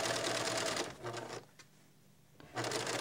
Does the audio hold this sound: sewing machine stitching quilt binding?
yes